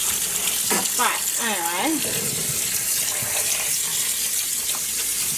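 Water from a tap runs steadily while a tub is rinsed out, a continuous splashing hiss that carries on under someone talking briefly near the start.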